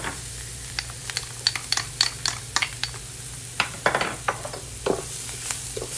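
Garlic sizzling in a pan of fried rice as it is stirred, with a steady frying hiss and a run of sharp spatula scrapes and clinks coming in irregular bursts, close and moderately loud.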